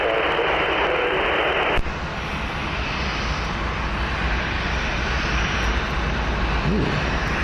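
A fixed-wing airliner touches down roughly at Columbus CMH airport, its engine roar loud and steady throughout, with a brief band of radio static at the start and a faint chirp near the end.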